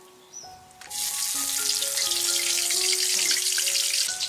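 Chui jhal (chui pepper vine) with whole cumin and dried chilies dropped into hot oil, a loud steady sizzle of frying that builds after a brief quieter start, with faint clinks and tonal background sounds, no talking.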